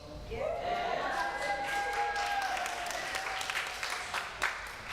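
A church congregation at a Sunday service claps and cheers together, a steady dense wash of applause with raised voices that holds at an even level for several seconds.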